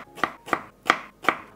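A knife cuts through a peeled banana on a board, four crisp evenly spaced chops sounding close and clear with nothing else heard.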